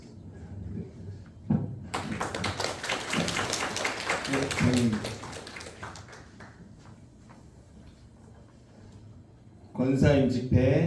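A church congregation at a deaconess ordination service bursts into dense applause that lasts about four seconds and then fades. Speech is heard before and after the clapping.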